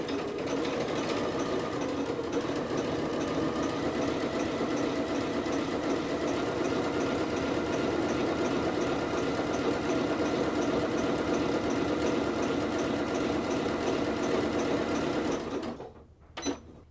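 A sewing machine runs steadily, sewing a triple straight stitch on knit fabric with a fast, even mechanical chatter for most of the time, then stops abruptly near the end.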